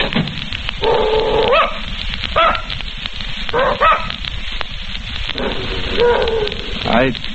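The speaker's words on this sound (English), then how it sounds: "I don't believe your dog likes me, Mrs. Gillis." A dog barks in short, repeated bursts throughout a 1945 old-time radio suspense drama, with several spaced yaps close to the microphone over a steady, hissy broadcast background.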